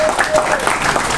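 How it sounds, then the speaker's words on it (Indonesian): Studio audience applause for talk show guests, a short burst of dense clapping that fills the space at steady loudness, with a voice talking over it. "Tepuk tangan untuk narasumber ya."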